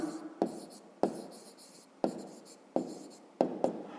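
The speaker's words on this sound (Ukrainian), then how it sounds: "Пишемо просто правильна." Handwriting during a fifth-grade maths lesson, pen strokes in short scratchy bursts about six times, close and fairly quiet, with no talk.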